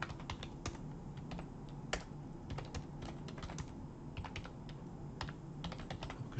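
Rapid, irregular keystrokes on a computer keyboard as a calendar name is typed, close and clear against a steady low room hum, with no talking.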